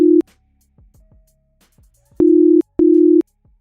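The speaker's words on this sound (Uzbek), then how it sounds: "Ana endi esa Jo'xaga telefon qilib ko'rish kerak." A phone call to a friend rings out unanswered, steady low ringback tones in separated bursts with clicks and short silences between, loud and alone.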